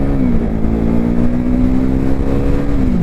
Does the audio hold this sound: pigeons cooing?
no